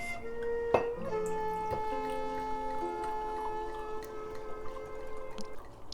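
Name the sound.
sake being poured into a cup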